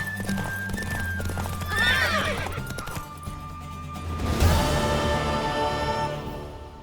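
A horse in a game world whinnies with a rising, harmonic neigh over steady background music, followed by a burst of movement and a second whinny, with no clear galloping rhythm.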